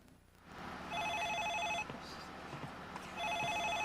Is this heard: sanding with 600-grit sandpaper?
no